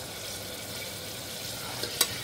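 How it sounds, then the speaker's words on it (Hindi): A teaspoon of cumin seeds frying in hot oil for a black-eyed bean masala curry, a steady soft sizzle with a couple of faint clicks near the end. "तो जीरा थोड़ा सा भून जाए"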